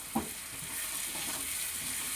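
Potatoes and onions fry in a wok, opening with a brief stirring scrape followed by a steady moderate sizzle.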